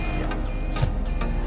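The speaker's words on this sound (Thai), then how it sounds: "เสียงเครื่องไม่ทำงานนะครับบอกเลยว่าเงียบมีแต่เสียงแอ" Air conditioner running inside a 2016 Honda Accord 2.0 Hybrid in EV mode with the engine off, a steady close blowing hum filling the quiet cabin with faint clicks.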